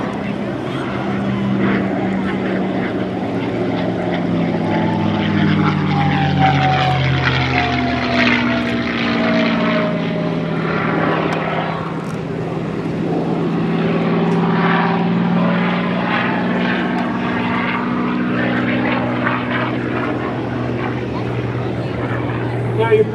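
A P-51 Mustang propeller fighter with its engine drone roars past at an airshow, loud and sustained over about twenty seconds, rising and falling in pitch as it passes.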